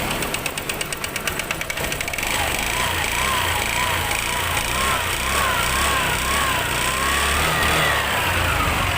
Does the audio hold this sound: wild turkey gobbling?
no